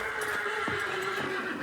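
A knight's horse gives a short neigh and whinny amid light hoof clopping, fairly close and moderately faint, with no voices present.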